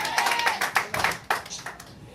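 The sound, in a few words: congregation applauding in church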